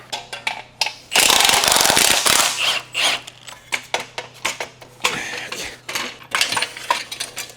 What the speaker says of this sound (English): So I'm going to remove the steering rack and make the subframe lighter.